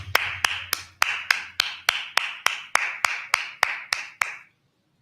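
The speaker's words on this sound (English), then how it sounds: "Just clap it up." Hands clap in a steady, even rhythm during a Sabbath service, about thirteen sharp, close claps in a row before stopping abruptly into silence.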